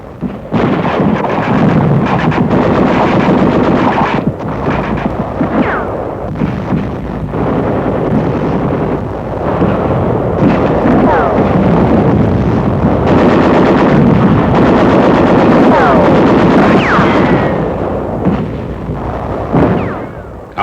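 Battle noise from the WWII fight on Peleliu, with rapid gunfire, bursts of automatic fire and heavy booming impacts running continuously and loudly throughout, with no talk.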